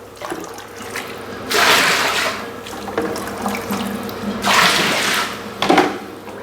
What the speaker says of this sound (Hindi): और तेज़ गर्म पानी इसमें डाल दें।